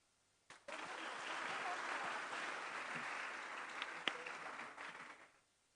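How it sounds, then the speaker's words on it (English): Applause for three professors at an international conference, starting abruptly after a moment of quiet, holding as an even wash of clapping for about five seconds, then fading out. "I think it is worth if we have give applause to them."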